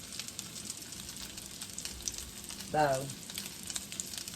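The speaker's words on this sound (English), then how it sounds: "I've got the sausage sizzling." Sausage browning in a frying pan for a breakfast-for-supper meal, a faint continuous sizzle and crackle, interrupted briefly by a short spoken word in the middle.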